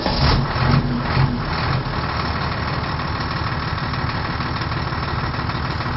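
A TIR truck's diesel engine idles indoors with its exhaust piped into an office, a dense, steady low rumble that is slightly louder in the first two seconds, then even and unbroken.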